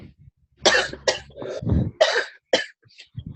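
A person coughs several times in close succession, harsh and close, with throat-clearing sounds between the bursts.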